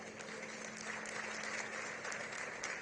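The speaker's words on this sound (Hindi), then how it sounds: "यमुना पार के हिसाब से तालियां कम है भाई" Faint, steady clapping from a public audience at a Delhi bus launch event, a thin even patter of applause heard from a distance throughout.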